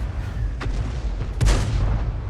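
Hummel self-propelled artillery in a tank video game firing shells, two sharp booms about a second apart, the second louder and longer, over a steady low rumble.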